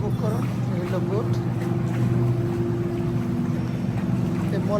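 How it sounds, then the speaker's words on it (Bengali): A passenger boat glides along an indoor canal inside Villaggio Mall in Doha, its steady low motor hum running throughout beneath echoing voices and the murmur of the crowd. "এই হলো বোট।"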